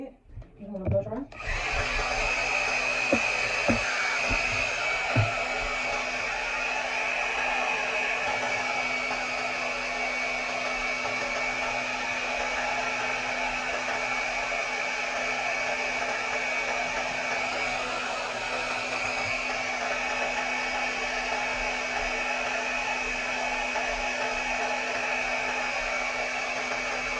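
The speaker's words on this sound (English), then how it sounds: "You want to blow dry." Hair dryer blowing hot air over a wig during a no-bald-cap install, a loud steady whooshing roar that starts abruptly and runs continuously, with a few faint taps near the start.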